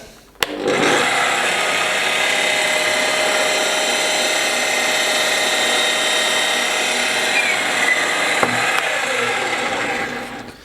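A power drill bores holes into wood at a slight diagonal, a steady, loud, close whine running unbroken for about ten seconds with no talking over it.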